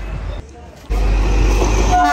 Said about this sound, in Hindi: ये है नांगलोई का रेलवे स्टेशन